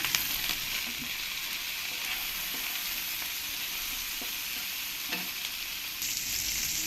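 Chopped capsicum sizzles steadily in a pan while being fried for pasta, a continuous close hiss with occasional soft stirring scrapes and no talking.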